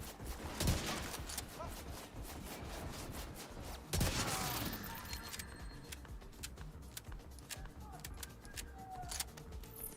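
Heavy automatic gunfire in The Division 2, rapid dense bursts with two sharp louder blasts early on, continuing as crackling shots and clatter through the rest.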